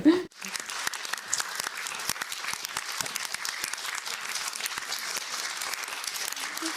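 Audience applause at a youth event, a dense, continuous patter of clapping that begins after a brief loud burst and carries on evenly throughout.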